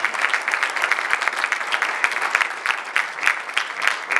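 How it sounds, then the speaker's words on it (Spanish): Dense, steady applause from a seated audience fills an award ceremony at a pork producers' forum, thick and continuous with a few sharper individual claps standing out, and no voices over it. "Lo recibimos con un fuerte aplauso"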